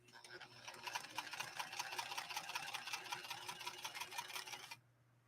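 A White Model 742 sewing machine runs a steady straight stitch, its needle clattering in a fast, even rhythm for nearly five seconds before stopping abruptly into near silence.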